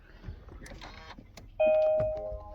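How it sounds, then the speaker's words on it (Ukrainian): A KIA Soul EV or Hyundai Ioniq electric car starts up with a soft whir followed by a steady electronic chime tone, close by, after some clicks and faint movement sounds, with an inverter coolant refill fault showing. "Заведу зараз автомобіль."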